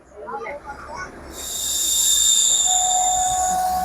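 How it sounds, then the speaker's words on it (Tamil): A passenger train on the Rameswaram–Secunderabad special run pulls out of Mayiladuthurai Junction toward Chidambaram, with rail rumble building and a sustained high wheel squeal. Brief talk comes at the start, before the train noise swells. "மயிலாடுதுறை ஜங்ஷன்லேருந்து நம்ம கிளம்பியாச்சு"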